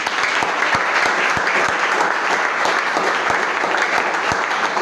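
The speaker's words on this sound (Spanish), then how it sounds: "Puede aplaudir, hermano." A church congregation applauds during a service, with steady, dense clapping from many hands that holds at an even, fairly loud level throughout, with no talk over it.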